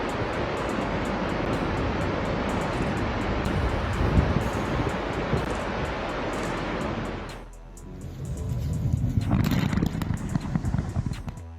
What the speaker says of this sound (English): Dettifoss waterfall in the northeast of Iceland is the most powerful waterfall in Europe.